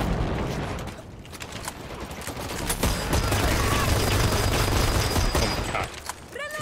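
Gunfire from a gun in the shooter game Dirty Bomb, rapid bursts of shots mixed with other battle noise and booms, loud and continuous with a short lull near the start.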